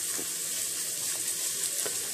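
Ham frying in a pan, a steady close sizzle and crackle with a few faint pops, no talk.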